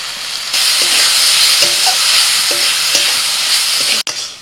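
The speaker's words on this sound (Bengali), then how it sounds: "সব মশলাকে আরও 2-3 মিনিট মতো কষিয়ে নিয়েছি" Spices with tomato paste stir-fried in a pan, a steady loud sizzle with a few spoon scrapes and knocks, close up and without voices.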